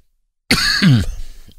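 A person coughs and clears their throat once, close and loud, with a hoarse rasping burst after a moment of silence.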